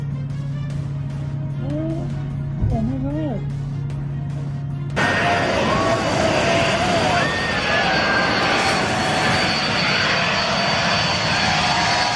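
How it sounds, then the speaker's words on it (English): A Yak-52 propeller aircraft engine drones loudly and steadily, its pitch wavering as the plane performs a torque roll, after a quieter stretch with a voice and low hum. "The Yak-52 demonstrates a torque roll, a move where the aircraft spins using the engine's rotational force."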